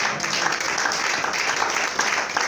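A church congregation at a French-language seminar applauds, a dense continuous patter of many hands clapping together, steady and fairly loud throughout the short stretch.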